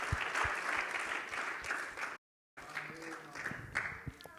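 A church congregation applauds with dense, sustained clapping, cut by a brief silent gap before the clapping resumes and gradually thins out.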